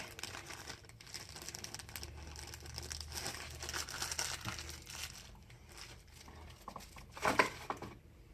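A plastic bag holding a new engine gasket for a trike crinkles and rustles up close in irregular bursts, with a sharper crumple near the end.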